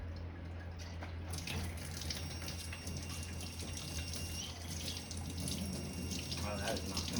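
Running tap water splashing over hands while sticky, liquidy putty is washed off, a steady close hiss and patter lasting throughout, with faint speech in the background.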